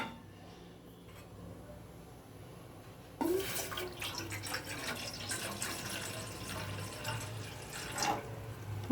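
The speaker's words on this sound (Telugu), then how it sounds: "ఒక గ్లాస్ వాటర్ వేసాను" A glass of water poured into a bowl set on a lit stove while an herbal kashayam is prepared; a steady splashing rush starts partway through and continues to the end after a quieter stretch of background noise.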